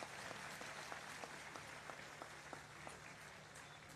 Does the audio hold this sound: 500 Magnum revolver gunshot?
no